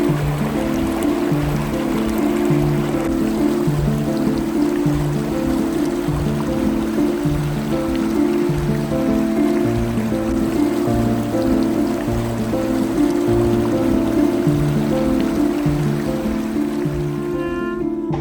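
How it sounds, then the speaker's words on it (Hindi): Water pours steadily from a mountain-fed pipe tap in a village in Bhutan's Phobjikha Valley, making a continuous close splashing rush that stays even for the whole stretch. "ये नल वगैरह है यहाँ पे, तो माउंटेन से पानी आता है और नीचे पाइप के थ्रू सप्लाई हुआ है"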